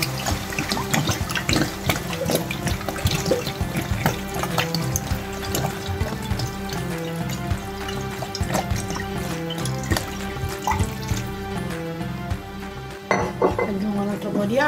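Water being poured into a pot for couscous, with tomato passata already added; a steady liquid splashing and trickling fills the whole stretch, close and continuous, with occasional clinks of pots or dishes.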